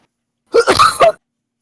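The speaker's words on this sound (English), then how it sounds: "It was a cough." A single sharp cough bursts out close to the microphone during an online tabletop roleplaying session, lasting about half a second and clearly heard on its own without any talk.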